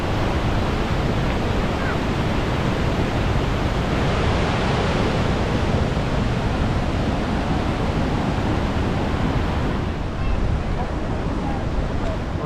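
Mist and spray from a waterfall along the Mist Trail in Yosemite, heard as a broad, constant roaring rush that stays loud and even, with wind buffeting the microphone.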